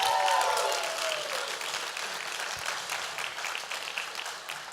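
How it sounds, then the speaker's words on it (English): Audience at a business lecture series at a community college applauds instructor Rafael Cardona, a broad steady wash of clapping that starts strong and slowly thins out, with a brief trailing voice at the outset. "So let's give Rafael another round of applause"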